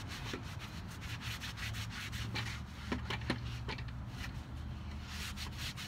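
Lint-free rag rubbing white and clear wax into a painted decorative chair, a soft, continuous scrubbing in rapid repeated strokes, close and fairly quiet, with no one speaking.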